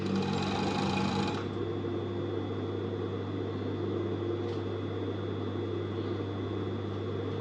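A sewing machine stitches a loose-fit T-shirt dress with a steady, close motor hum that runs without a break and has no voices over it.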